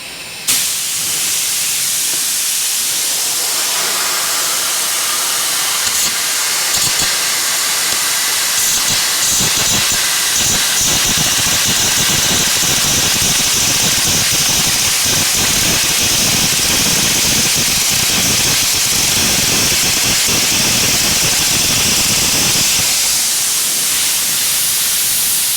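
Compressed air hissing loudly and continuously from an arc-air gouging torch, a harsh, steady roar with slight fluctuations that holds for over twenty seconds.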